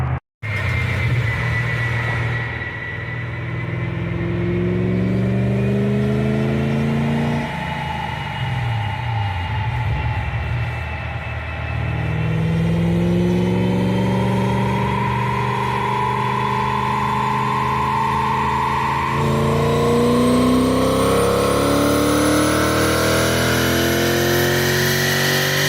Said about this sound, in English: Gonna take it back on the dyno, put it back on the kind of follow-up dyno session to see if it picked up any horsepower.